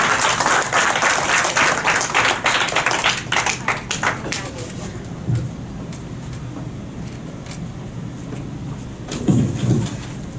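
A round of applause at a Rotary Club meeting welcoming a speaker, brisk clapping from a room of people that thins out into scattered claps, with some movement noise.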